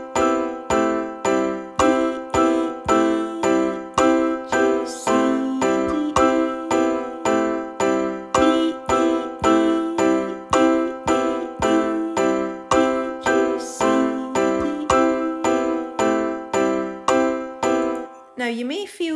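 The Jingle Bells melody rings out on bells as a steady stream of bright, clear struck notes, each with a short decaying ring, continuing evenly for the whole passage.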